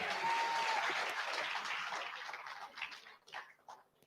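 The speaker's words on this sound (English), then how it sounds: "Please, a round of applause for him again." Audience applause at a tech conference fills the first seconds, then thins out and fades into scattered claps and quiet.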